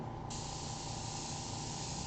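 An airbrush sprays paint in a steady, unbroken hiss that runs close and constant for about two seconds, with a brighter edge coming in just after the start.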